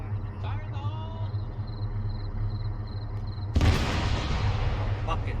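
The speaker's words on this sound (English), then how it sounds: "Performing control detonation in 5, 4, 3, 2, 1. Fire in the hole." Controlled demolition charge going off in the military shooter Arma 3: a steady low rumble, then one sudden loud blast with a roaring tail late in the clip.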